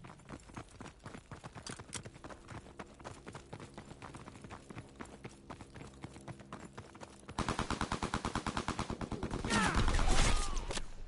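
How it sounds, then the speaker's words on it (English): Gunfire rattles from a Call of Duty game in quick repeated bursts, steady and moderately loud, then grows denser and louder toward the end, with no one talking. "Shots!"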